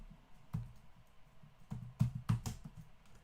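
A few scattered keystrokes on a computer keyboard, soft clicks in small bursts with pauses between them, close but quiet against a faint background.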